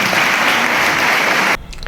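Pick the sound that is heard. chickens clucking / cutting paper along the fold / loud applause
loud applause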